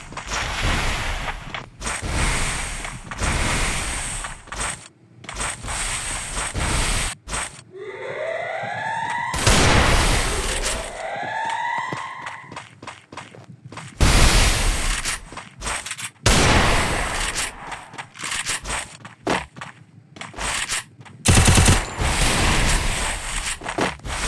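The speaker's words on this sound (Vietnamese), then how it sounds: "Và đó tiếp theo chúng ta sẽ sử dụng súng tiểu liên." Submachine guns firing in a shooting video game, EMP, MB40 and MP5, loud rapid bursts that start and stop repeatedly, broken midway by rising and falling siren-like wails and scattered louder blasts.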